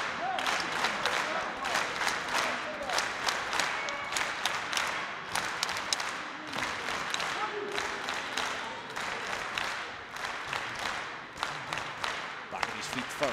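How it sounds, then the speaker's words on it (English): Crowd at a pro wrestling championship match (GHC National title) cheering and clapping steadily throughout, a busy roar with sharp claps and possible ring impacts and talk mixed in. "The crowd are getting louder."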